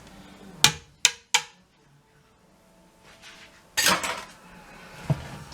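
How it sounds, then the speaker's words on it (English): A metal spoon scrapes and clinks against the inside of a pot while scooping the last Country Crock margarine out of its tub, giving three sharp close taps, a louder scraping burst, then one more knock. "I'm going to scoop it around in there just to get the rest of the margarine out of it."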